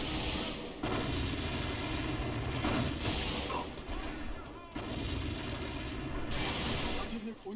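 Grenade blasts and heavy booms in a military shooter video game, dense continuous rumbling explosions filling the scene with several sharp onsets, loud and close.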